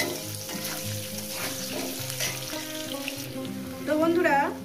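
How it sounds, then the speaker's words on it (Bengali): Potatoes frying in salted oil for a Bengali fish curry, with a steady close sizzle and crackle running throughout and a louder burst of hissing near the end; faint kitchen clatter sits underneath. "আলুটাকে 4 মিনিট ধরে আমি ভেজে নিয়েছি"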